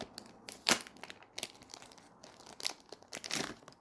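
Tape and plastic packaging on a magnetic cube box get torn and crinkled in several quick, scattered bursts, quiet and close, with no talking.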